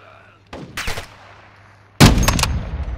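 Gunfire in the video game Call of Duty: Modern Warfare II, a few short bursts of shots, one brief cluster early and a louder sustained burst later, fairly close over quiet game ambience.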